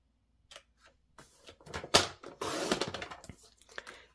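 A paper trimmer blade slides through cardstock, making a close, rough scraping swipe with a few light clicks and handling knocks before it. No one speaks.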